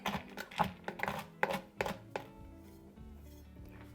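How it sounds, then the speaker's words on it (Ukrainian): A knife chops pistachios on a board for Dubai-style chocolate, a quick run of sharp, close taps that thins out into a few scattered knocks and quiet handling. "спочатку їх необхідно трішки подрібнити ножем"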